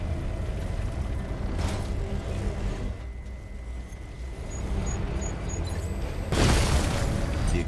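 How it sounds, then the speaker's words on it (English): An explosion in the video game Batman: Arkham Knight that disables a tank's main cannon, heard as a loud, broad blast near the end over a steady rumble of game noise and music. "The explosion disabled the main cannon."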